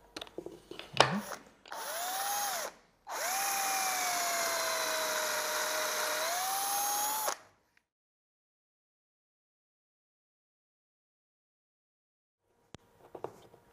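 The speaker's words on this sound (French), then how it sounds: "nous perçons donc sur ce point" A power drill whines loudly in two bursts, the second long and steady as it bores into a wooden block for a tenon, then stops, leaving silence and a faint click.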